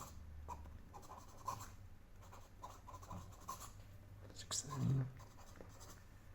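A Wingsung 630 fountain pen with a 14K broad nib writing on paper: faint, soft scratchy strokes in short bursts, close up, under quiet talking.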